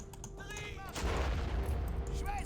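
Artillery barrage in the WWI strategy game Battle of Empires: 1914-1918, with a low, dense rumble of shelling that swells and stays loud and continuous, while a voice speaks briefly over it.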